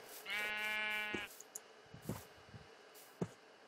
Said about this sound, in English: When did all these sheep get here?